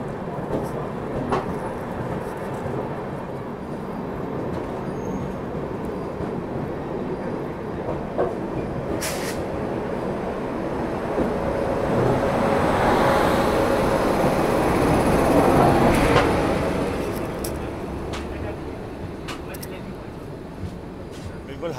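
A special train running from Banaras to Delhi rumbles steadily on the rails while overtaking, its roar swelling to a peak midway and then easing, with a few sharp clicks and speech over the noise.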